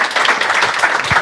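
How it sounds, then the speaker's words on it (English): Audience applause after a presentation on school accountability design, a short dense burst of clapping heard close and alone. "Round of applause. Round of applause."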